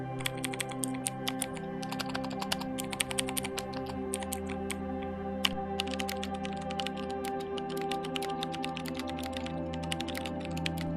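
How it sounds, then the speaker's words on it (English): Typing on a 1ByOne mini mechanical keypad with Kailh Blue switches compared to Cherry MX Browns: rapid, continuous clicky keystrokes in an uneven rhythm, close but fairly quiet, over a low background hum with no talking. "I'm going to go ahead and play what the Kailh Blue switches sound like versus my Cherry MX Browns."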